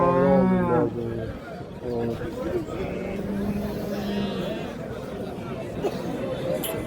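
Sheep bleat at a busy livestock market, loud calls near the start then more scattered bleats under a steady babble of traders and crowd chatter, with someone talking nearby.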